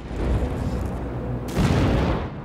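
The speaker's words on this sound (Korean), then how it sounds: "무시무시한 폭발에 휩싸이고 마는 역사의 모습" A film action scene where a blast engulfs a city centre, heard as a loud, rumbling burst of booms that swells again midway and rolls on heavily with no speech over it.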